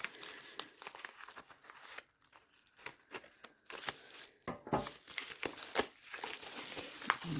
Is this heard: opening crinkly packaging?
yes